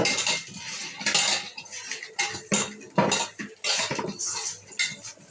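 Fish pieces being hand-mixed with salt, turmeric and chili powder in a metal vessel, giving a close run of irregular clinks, scrapes and wet rustles in uneven bursts, with no talk.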